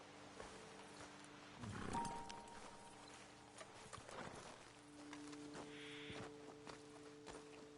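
Horses walk at an unhurried pace on a dirt road in Red Dead Redemption 2, their soft hoof clops spaced irregularly and fairly faint beneath quiet ambient game sound.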